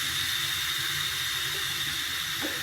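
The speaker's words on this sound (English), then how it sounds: "Now most of the pressure is released. I can set the vent to open." Steady loud hiss of steam escaping from the open vent of a Cookbot pressure cooker after brewing tea, continuous and close, with a faint clunk near the end.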